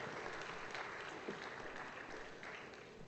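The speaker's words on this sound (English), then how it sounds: "I think let's give Mzee Lalani a huge hand clap." Audience applause at a session during Africa Industrialisation Week, steady clapping from a crowd that holds fairly even and moderately distant for about three seconds, with no talk over it.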